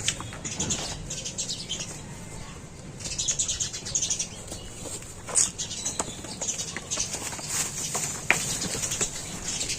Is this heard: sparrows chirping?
yes